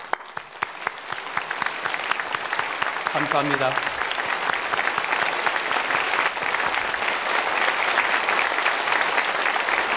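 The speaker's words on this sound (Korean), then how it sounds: "우리 잠시 일어나셔서 인사드리실 때에 우리 뜨거운 박수로 환영해" Sustained applause from a church congregation during a Sunday worship service, welcoming visiting missionaries; dense, steady clapping fills the hall for the full stretch while a pastor's voice speaks briefly over it.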